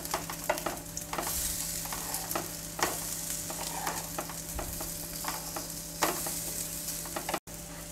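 A sooji breakfast frying in a pan with little oil after being flipped, a low steady sizzle with frequent light clicks and scrapes of a spatula, close and alone without talk.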